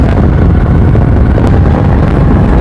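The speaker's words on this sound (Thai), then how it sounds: "ได้ยินเสียงลม" Wind blows hard outdoors as a loud, steady broadband rush that buffets the microphone continuously, with no voices over it.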